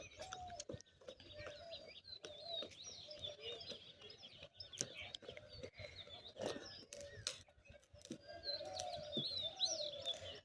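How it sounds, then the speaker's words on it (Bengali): Birds chirping and cooing on a rooftop, a mix of close tweets and soft dove-like coos in irregular bursts, with occasional sharp clicks and knocks nearby. "পাখির আওয়াজগুলো শুনতে ভালোই লাগে"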